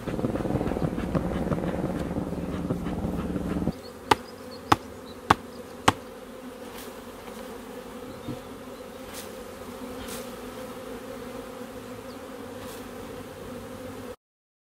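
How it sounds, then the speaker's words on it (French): Honey bees buzz around an orphaned hive, a dense close drone at first that drops to a fainter steady hum, with four sharp knocks in quick succession and a few passing buzzes. "Est-ce que c'est les abeilles de la ruche là ou est-ce que c'est les abeilles des ruches des alentours?"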